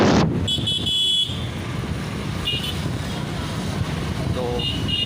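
Steady roaring road traffic with lorry engines droning close by on a hill road to Ooty, broken by a few short horn toots. A voice is briefly heard at the start.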